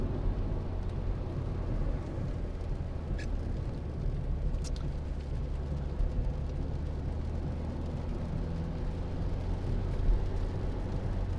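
A 2015 Mercedes-Benz A180 CDI SE diesel with a 7G-DCT gearbox drives along, a steady low road and engine hum heard from inside the car, fairly quiet and even throughout.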